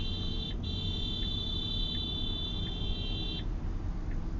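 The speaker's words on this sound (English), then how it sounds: "They beeping at you?" A car horn sounds a steady electronic beep for about three seconds over a low rumbling engine drone in traffic, from a short distance.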